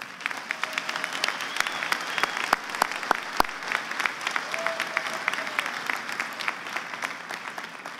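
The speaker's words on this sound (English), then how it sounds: "Let's thank this group with a round of applause." Audience applause fills an outdoor or large-hall college commencement ceremony, a moderately distant patter with several sharper, closer claps standing out, and a faint voice trailing underneath.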